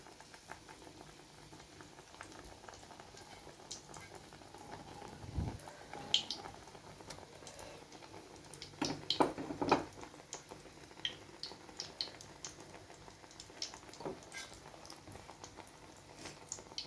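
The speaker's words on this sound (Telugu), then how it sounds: "పిండిలో ముంచి ఇలాగా బజ్జీ వేస్తున్నాను." Battered boiled eggs for egg bajji bubble and crackle in hot oil, a steady close sizzle with scattered louder pops and spits through the middle, no talking.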